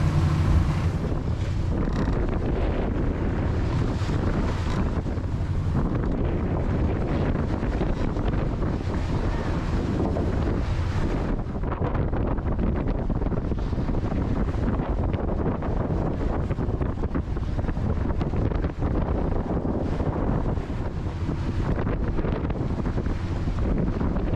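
Wind roars and water churns around a sailboat under way north of Guernsey toward Brest, a dense, unbroken rush of wind noise and surging sea close to the microphone.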